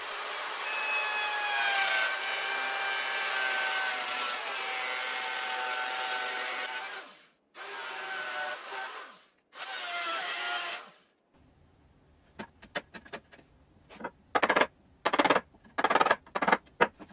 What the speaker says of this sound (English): every time I need to route a rabbet, I just end up putting a guide on the router like this